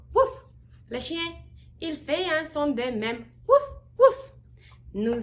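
A voice imitates a small brown dog barking with repeated "woof" sounds, woven into clear French storytelling speech.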